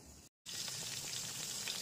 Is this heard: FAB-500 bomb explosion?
no